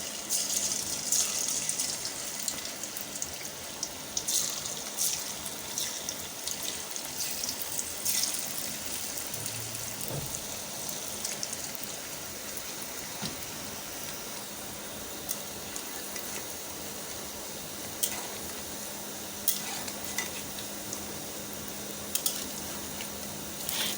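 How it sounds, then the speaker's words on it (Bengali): Shredded cabbage goes bit by bit into hot oil in a wok, giving a soft, continuous hiss and crackle of frying with occasional faint clinks, steady and moderately quiet throughout. "তেলটা গরম হয়ে গেছে, এখন আমি এর মধ্যে একটু একটু করে দিয়ে দিচ্ছি"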